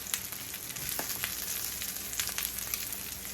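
Stuffed salmon fillets, filled with saltfish and callaloo, sizzling in a hot frying pan, a steady crackling fry with scattered sharp pops and spits, close and moderately loud, with no voices.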